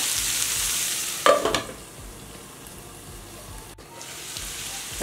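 Onions with salt cooking in a pan for hotel-style dosa, giving a steady low sizzle throughout with a brief louder scrape of stirring near the start.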